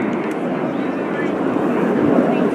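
An RAF Red Arrows jet at the RIAT 2018 airshow dives to about 100 feet over the runway, producing a loud, steady, broadband roar that fills the whole moment without a break.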